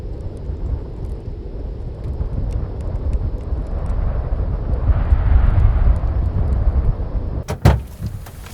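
Strong mountain wind carrying blowing snow roars and buffets the microphone in a continuous loud rush that swells toward the middle. A sharp thump lands near the end.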